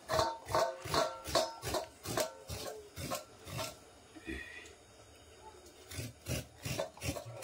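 Coconut being grated by hand, rhythmic scraping strokes repeating steadily at close range, with a brief pause midway before the strokes resume.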